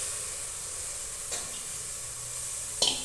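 Guvar curry is stirred in oil in a pan, a soft continuous sizzle with a couple of brief scraping stirs, quiet and close, no talking.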